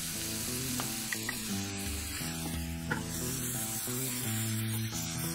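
Tomato paste frying with glassy softened onions in a pan gives a steady, close sizzle and hiss with occasional stirring scrapes, alone without talk.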